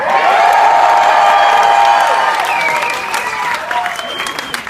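A concert crowd at a solo rock show bursts into loud cheering and applause, with whoops and clapping that stay strong, then gradually thin out and fade toward the end.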